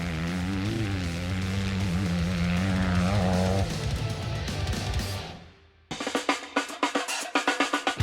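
A 250 four-stroke motocross bike on a hot lap, engine screaming loud and close as it revs and shifts, then a brief drop before rapid, choppy bursts of throttle.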